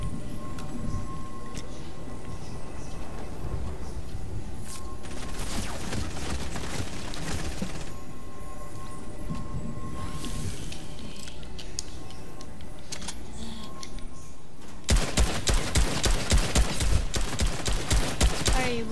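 Gunfire from a Fortnite match, with scattered shots and game noise through most of the stretch, then a loud rapid burst of repeated shots near the end.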